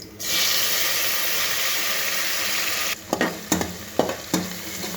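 Tomatoes sizzle loudly in a cooker while biryani is being made, a steady frying hiss that is later broken by several quick stirring scrapes.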